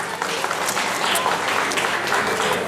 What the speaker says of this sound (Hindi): जोरदार तालियों से अभिवादन करें बच्चों का।